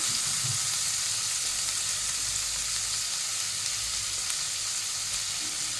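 Chopped tomatoes sauté in a pan with a dense, steady sizzle, close and unbroken, carrying a faint low rumble beneath the hiss and no voices.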